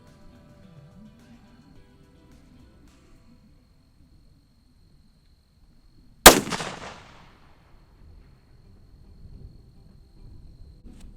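A single loud rifle shot from a Browning X-Bolt Hells Canyon in 6.8 Western cracks out at close range, its sharp report decaying over about a second. Quiet outdoor ambience surrounds it, with faint low rumble before and after.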